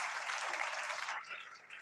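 A church congregation at a Sunday meeting claps loudly together in a dense burst that fades into scattered claps toward the end.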